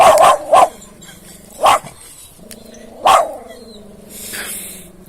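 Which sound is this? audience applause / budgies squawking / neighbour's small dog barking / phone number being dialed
neighbour's small dog barking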